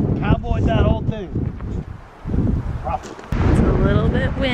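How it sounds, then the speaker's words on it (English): Gusty wind blows outdoors at Wupatki and Sunset Crater national monuments in Arizona, a steady low rumble buffeting the microphone for the whole few seconds, with a brief lull midway and people talking over it. "It's a little bit windy today."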